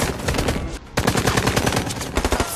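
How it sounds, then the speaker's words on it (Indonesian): Rapid bursts of gunfire crackle loudly in a firefight with a Taliban group, dense overlapping shots with one brief pause before the shooting resumes. "Kontak senjata kembali terjadi."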